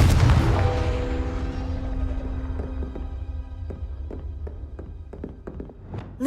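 Confringo blasting spell in Hogwarts Legacy goes off with a heavy boom up front, its rumble fading over several seconds, followed by scattered light taps and clicks, with no voices.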